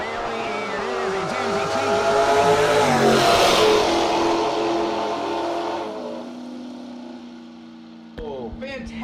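Two drag racing cars roar down the strip together at a no-box event, engines revving hard and long with rising pitch before fading, while a commentator's voice runs over the noise.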